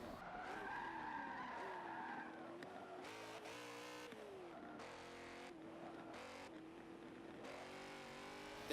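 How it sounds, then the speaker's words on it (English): A classic BMW drives in Forza Motorsport 7 with a steady engine drone, then its tires squeal and skid in several bursts as it corners. "Let's cruise round in my nice classic BMW."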